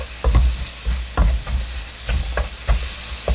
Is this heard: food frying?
yes